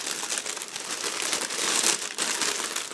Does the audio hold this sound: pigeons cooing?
no